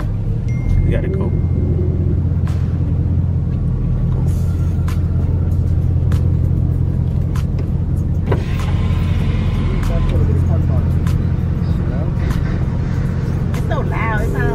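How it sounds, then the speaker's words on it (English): The engine of a 3/4 ton truck drones low and loud throughout a drive, a steady rumbling cabin noise with occasional clicks and a brief whirring motor sound, while people talk over it. "It's so loud. It sounds like a big truck."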